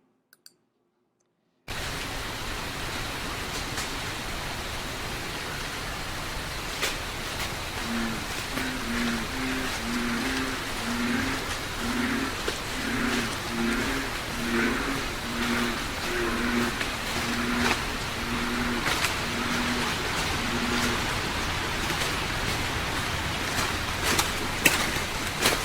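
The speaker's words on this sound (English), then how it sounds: "there's a lot of bullfrogs making a bunch of noise" Bullfrogs croak in rhythmic low pulses over a steady hiss of background noise, with scattered clicks throughout a noisy outdoor recording.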